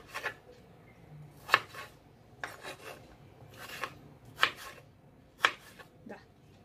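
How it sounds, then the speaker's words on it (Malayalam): A knife cuts potatoes lengthwise into thick finger-chip strips on a board, giving sharp, irregular chops about once a second, each followed by a soft scraping rasp, fairly close and quiet. "നീളത്തിൽ തന്നെ അരിഞ്ഞെടുക്കുക."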